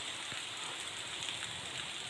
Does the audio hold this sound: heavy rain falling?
yes